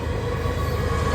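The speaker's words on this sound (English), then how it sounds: "Look how long this train is, too" A long Union Pacific freight train rolls steadily past up close, its cars rumbling and clattering in a continuous loud drone as the end of the train goes by.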